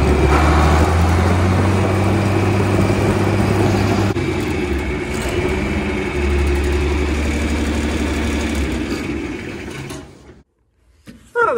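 A John Deere 4320 tractor rumbles loudly in road gear with a steady low engine drone and rhythmic chatter, then abruptly cuts to near silence near the end before a brief burst of sound returns.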